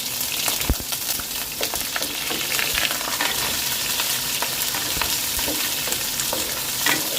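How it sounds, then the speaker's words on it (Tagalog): Garlic and onion sauté in a hot pan for a sheri fish dish, giving a steady, close, crackling sizzle with scattered sharp pops and stirring clicks throughout. "Atin muna gigisa ang bawang. Next, sibuyas."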